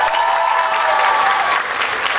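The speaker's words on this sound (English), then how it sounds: "Can we get a round of applause for our judges" A high school talent show audience applauds the judges, loud sustained clapping with some crowd noise and cheering, holding steady throughout.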